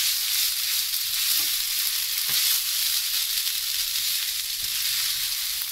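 Schezwan fried rice sizzles steadily in a hot pan on a gas stove, a continuous bright hiss with occasional soft stirring clicks and no talking.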